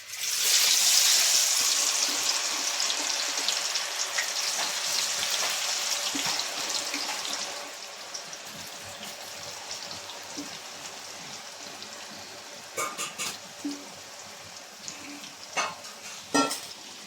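Tapioca slices fry in hot oil on high heat with a loud, dense sizzle that gradually settles into a softer crackle, broken near the end by a few sharp scraping and stirring clicks.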